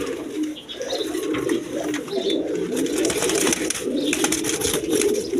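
Pigeons cooing nearby in low, throaty repeated calls, continuous and overlapping, with some wing rustling in the background.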